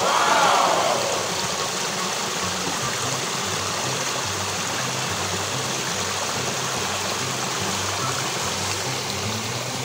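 Water of a small stream running across a farm in the Philippine countryside, a steady close rushing and trickling wash that holds at an even level throughout, with a faint low engine hum beneath it.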